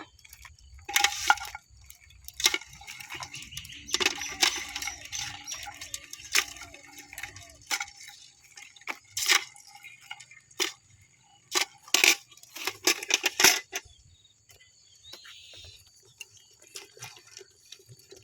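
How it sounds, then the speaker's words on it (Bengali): Crabs caught in pot traps among Sundarbans water hyacinth are dropped into a bucket, giving scattered faint clicks, knocks and clatters with a few watery drips between quieter pauses. "কাঁকড়াগুলো আমি বালতিতে তুলে নেবো"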